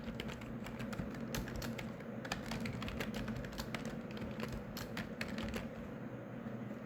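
Steady computer keyboard typing runs throughout, with rapid irregular key clicks over a constant low background hum while someone sets up a proxy in the Firefox browser.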